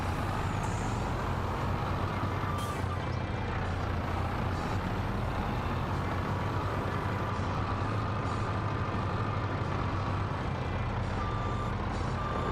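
Truck engine from Farming Simulator 22 on the Iowa Plains map, a steady low drone running throughout, joined by repeated reversing beeps and a hiss of air brakes.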